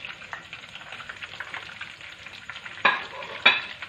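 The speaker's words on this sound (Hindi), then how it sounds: "फ्राई कर लेंगे।" Koftas frying in a pan over a medium flame, a steady close crackling sizzle with a couple of sharper louder spits near the end, no voices.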